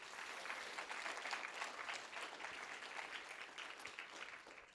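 A crowd at a learning conference claps steadily in sustained applause, a dense, even patter heard from a moderate distance.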